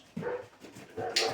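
A puppy pants and whimpers up close, with short breathy pulses and a brief whine, heard alone without talk.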